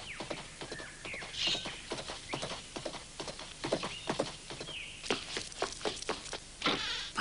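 Horse hooves clip-clop steadily in a radio-drama ride, a brisk repeated rhythm of sharp knocks close by, with faint buzzing high tones in the background and no talking.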